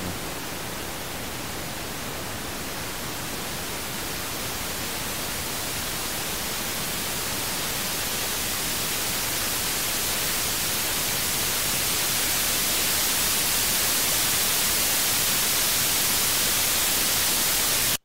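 Continuous hissing noise fills the whole stretch, its high end growing gradually brighter and louder as treble is boosted.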